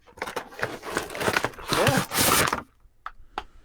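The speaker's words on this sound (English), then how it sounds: "That is the sound of Snapdragon being freed" Transformers Snapdragon toy packaging torn open up close, loud crinkling plastic and cardboard rips in a dense burst, then stopping abruptly with a couple of faint rustles after.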